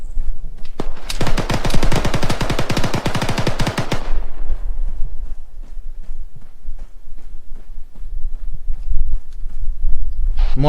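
Rapid automatic gunfire from the military shooter ArmA 3 rattles in a dense, loud burst for about three seconds, then gives way to scattered, fainter distant shots and ambient noise.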